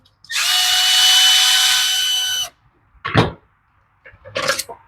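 A power driver fitted with a Torx T20 bit runs in one sustained whirring burst of about two seconds on Homelite weedeater carburetor screws, then two short clicks and rattles follow, close and loud.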